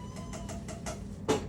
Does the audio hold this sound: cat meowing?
yes